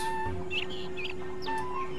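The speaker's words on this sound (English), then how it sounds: "Birds chirping, sun shining, looks beautiful" Birds in the video game Skies of Arcadia Legends chirp and cluck in short, bright calls, repeating over a steady sustained tone.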